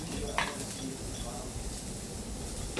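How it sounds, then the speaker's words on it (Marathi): Onion frying in a pan with turmeric, chilli powder and black masala, a soft steady sizzle running throughout with a brief utensil scrape near the start and light stirring beneath it. "आणि अशा प्रकारे हा सगळा कांदा छान असा फ्राय करून घेऊ."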